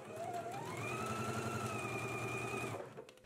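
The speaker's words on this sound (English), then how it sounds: "we can go ahead and stitch at a 1/5 of an inch seam allowance" A sewing machine stitches a seam in one steady run of fast, even mechanical whirring, close and fairly quiet, slowing and stopping near the end.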